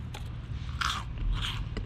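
Crispy deep-fried shrimp heads, still hot from frying, are bitten close to the mic, giving two or three sharp, brittle crunches in quick succession.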